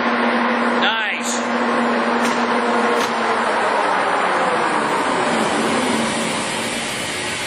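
A LeBlond 31x120 engine lathe with an L3 direct-mount spindle turning at 400 RPM gives a steady, close mechanical whir with a constant hum, after a brief rising chirp near the start.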